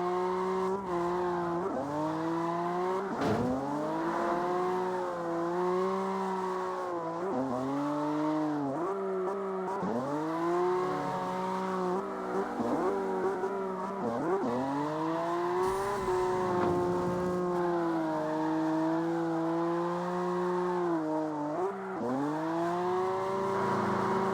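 A Toyota Supra's engine drones steadily while driving in the video game CarX Street. The pitch rises and falls repeatedly as it revs and shifts gears, loud and continuous with no talking.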